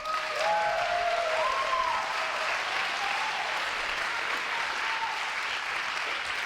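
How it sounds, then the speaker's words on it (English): A comedy roast audience applauds for Tafo, a dense, steady wash of many hands clapping that holds at an even level throughout, with a few faint whoops on top and no talking. "Round of applause for Tafo."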